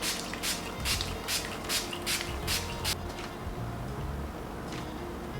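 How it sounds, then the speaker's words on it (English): Roughly eight quick, sharp spritzes of a makeup setting spray misted onto a face come in rapid succession, then stop, leaving faint background noise. "Last but not least, setting spray."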